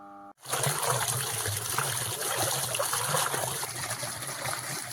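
Water pouring and trickling steadily on a farm, a continuous close gushing flow that holds evenly from start to end with no talk over it.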